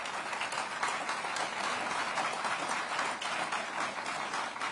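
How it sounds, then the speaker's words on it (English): A steady wash of audience clapping at a Pittsburgh speech event, sustained and fairly even throughout, with no voices above it. "We should clap for that."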